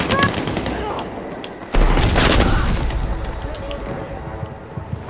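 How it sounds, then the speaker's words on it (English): A frag grenade going off in the Battlefield 6 game on PC, a sudden loud boom partway through amid ongoing gunfire and battle noise, with voices talking over the action. "Launching frag!"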